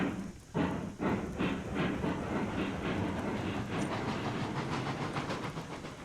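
A train runs in the video game Railroads Online, with rhythmic clickety-clack of wheels over rail joints repeating steadily under a continuous rolling rumble, loud and close.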